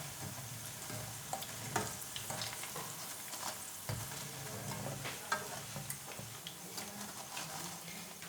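Onion pakoras fry in hot oil with a steady, soft sizzle and occasional light taps and stirring clicks, heard alone at moderate volume with no talking.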